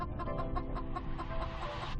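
Mother hen Candy clucks steadily with her nine four-day-old chicks, a close, continuous run of soft repeated clucks and thin peeps with no talking.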